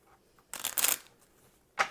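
Tarot cards are shuffled up close in two quick riffling bursts, the first longer and crackling, the second short near the end, with quiet between them.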